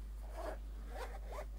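A zipper on a notebook cover being pulled closed gives three short, soft rasping strokes, close and quiet, with no voices.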